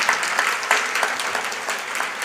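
A church congregation clapping during a pastor's sermon, a short burst of dense, even applause that holds at steady loudness throughout.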